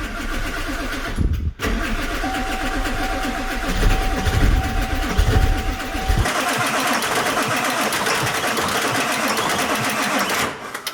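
A Ford 7.3 Powerstroke diesel in a cheap auction truck cranks over in a steady, rapid starter chug that pauses briefly and then keeps churning without catching, loud and close.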